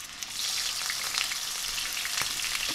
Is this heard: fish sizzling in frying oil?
yes